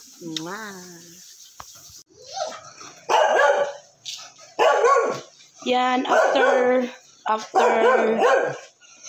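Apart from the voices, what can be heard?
dogs barking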